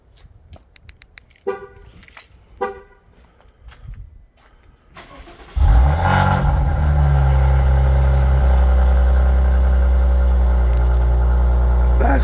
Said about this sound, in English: That's definitely the sound of an Italian car.